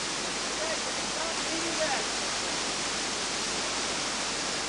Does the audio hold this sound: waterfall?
yes